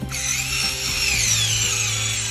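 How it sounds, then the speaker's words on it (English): A power drill drives screws into an electrical box while hardwiring an LED mirror, one steady whirring motor run lasting a couple of seconds, close and loud with a shifting pitch. "put it inside the box, and then tighten these screws"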